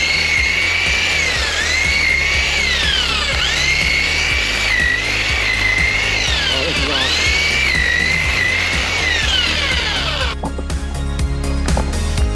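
A string trimmer runs on a portable power station strapped to an ATV while clearing trail growth: a loud, close electric whine that rises and dips as it cuts, with a voice talking over it.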